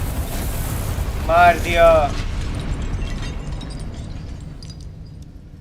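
Incendio fire spell blasts in Hogwarts Legacy, a broad rushing, rumbling burst that fills the clip with a muffled boom. A voice talks briefly over it early on, and the sound fades to a lower hiss.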